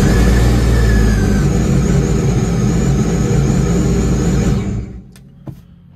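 Giveaway boat engine running at a steady loud drone close by, holding an even pitch before cutting out abruptly, after which a few faint knocks follow in near silence.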